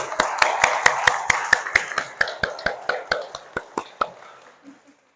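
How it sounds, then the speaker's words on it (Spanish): An audience in a theology lecture gives a short burst of rhythmic clapping, about twenty sharp, evenly spaced claps that slow and fade out. "Fuerte aplauso."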